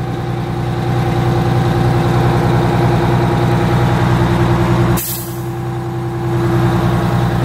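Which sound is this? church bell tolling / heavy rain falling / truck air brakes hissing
truck air brakes hissing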